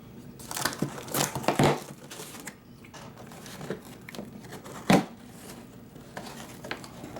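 Cardboard packaging crinkles and tears close up as a box with a knife inside is opened, with a few sharp crackles and a thump among softer rustling.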